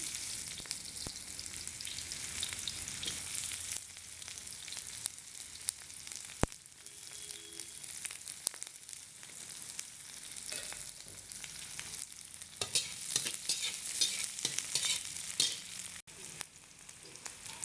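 Onions frying in oil in a hot kadai, a continuous close, bright sizzle with occasional stirring clatter throughout and no talking.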